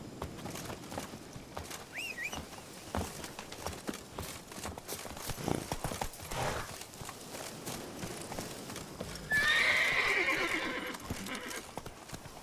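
Roach, the horse in The Witcher 3: Blood and Wine, trots with steady clip-clop hoofbeats and lets out a loud whinny near the end, set against light outdoor game ambience.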